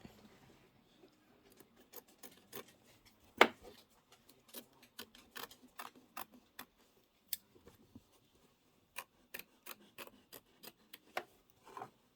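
Scissors trim threads on a machine embroidery piece, faint close snips and small clicks scattered irregularly over about twelve seconds in a quiet room, with no one talking.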